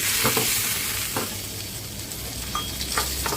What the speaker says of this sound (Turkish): Yarım yemek kaşığı kadar tereyağını ekledim.